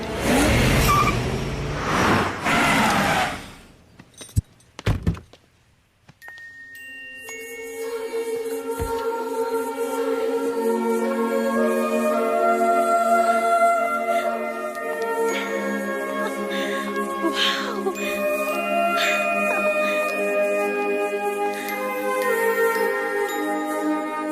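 Several cars revving hard and pulling away, first a loud burst of engine noise and hits, a brief near-silent gap, then sustained droning engines with music-like tones layered over them for the rest of the stretch.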